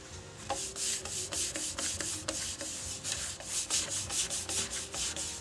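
Finish is rubbed by hand onto a turned Spanish cedar bowl, a close, rhythmic series of brisk swishing strokes, roughly two per second, each a soft scratchy hiss against the wood.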